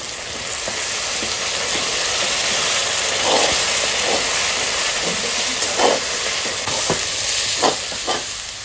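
Ginger, garlic and dried chillies dropped into a hot pan of tomato and oil, a loud continuous close sizzle and hiss with a few brief stirring scrapes and pops.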